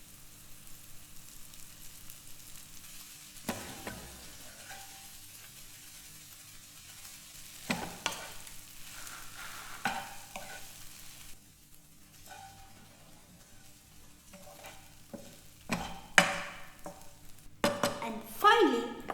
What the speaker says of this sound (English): And next we add the crushed idlis.